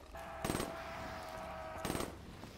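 Shotgun fire in Call of Duty Black Ops 3 Zombies: two loud, close blasts about a second and a half apart, heard over a steady game hum with no talk.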